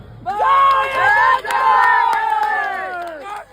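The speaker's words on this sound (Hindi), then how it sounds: "अनुरोध जे थोड़े जोरदार करताली बजेबे" A large crowd at a public gathering in Koraei, Jajpur, cheering and shouting together, loud and sustained with rising voices, a short dip partway through, then fading slightly toward the end.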